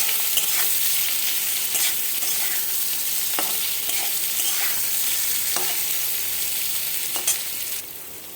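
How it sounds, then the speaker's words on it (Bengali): Boiled potatoes fry in hot tempered spices while being stirred, giving a steady, close sizzle broken by occasional scraping clicks from the spoon, with no voices. "ফোড়নটা ভাজা হয়ে গেছে, আলু সেদ্ধগুলো দিয়ে ভাজবো"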